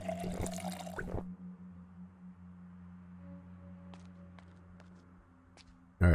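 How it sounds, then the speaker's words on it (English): A brief burst of drinking and splashing water in Project Zomboid, loud and close for about a second, followed by a quiet steady hum with faint clicks. "Let's drink some water."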